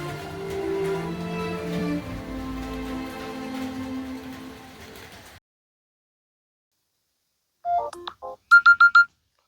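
A mobile phone ringtone melody plays steadily for about five seconds and then cuts off. After a short silence, a few sharp electronic beeps follow close by. No one speaks.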